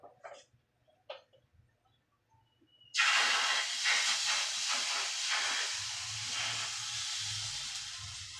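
Hotcake batter hits a hot pan after a few seconds of quiet with faint knocks, bursting into a loud, steady hiss of sizzling that holds to the end.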